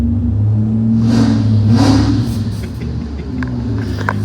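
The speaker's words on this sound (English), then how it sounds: "He's revving it already." Volvo fitted with a four-rotor rotary engine revving up nearby, a loud droning rumble that swells with a couple of throttle blips before settling back toward idle.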